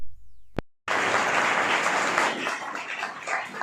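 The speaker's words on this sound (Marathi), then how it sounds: "जोरदार टाळ्या" Loud, sustained audience applause at a career academy's anniversary celebration, a dense wash of clapping that bursts in after a brief pause and continues steadily to the end.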